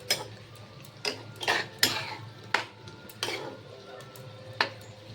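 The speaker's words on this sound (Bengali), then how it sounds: "এবার এটা পুরোটা একসঙ্গে একটু নাড়িয়ে নিলাম" A spoon scrapes and clinks against a pan while kochur loti (taro stolons) is stirred together with garam masala, giving several sharp, spaced knocks over a faint low hum, with no talk.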